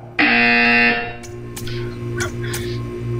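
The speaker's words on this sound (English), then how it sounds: "You will hear a buzzer." A loud buzzer sounds in the Portal 2 video game, a sustained electronic tone lasting under a second, followed by quieter clicks and low ambient hum.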